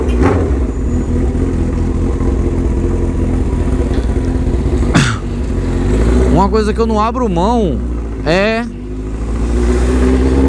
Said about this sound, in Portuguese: Ouvir os quatro cilindros roncando, velho.